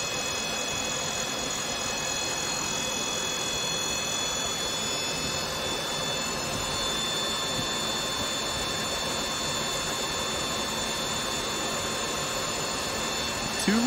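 A synchronous motor driving a three-phase permanent magnet generator at about 2,600 RPM gives off a loud, steady high-pitched whine and hum. It holds constant throughout with no pauses.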